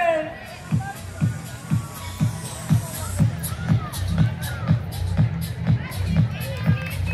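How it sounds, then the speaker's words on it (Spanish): Spectators at the 2019 Zamora triathlon clap in a steady, even beat, roughly two claps per second, over a murmuring crowd and a shouted voice nearby. "¡Ese aplauso para él!"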